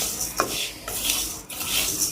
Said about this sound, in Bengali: কষ্ট করে গরমের মধ্যে চালটা ভাজতেছি